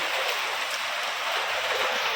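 Steady rain falls close by, a dense, even hiss of drops with no break and no voices over it.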